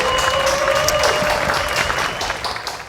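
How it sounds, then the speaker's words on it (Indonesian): Audience applause at an Indonesian live presentation event, a broad steady wash of clapping that holds strong for about two seconds, then thins and tapers while a faint tone lingers underneath. "Boleh dong kasih aplaus."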